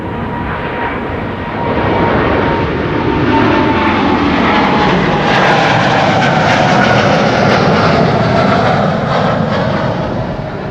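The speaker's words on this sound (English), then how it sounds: "That is a 7879 Dreamliner." A Boeing 787-9 Dreamliner, about nine years old, departs Schiphol Airport, its loud jet engine roar building steadily and holding strong as it climbs away, with no talk over it.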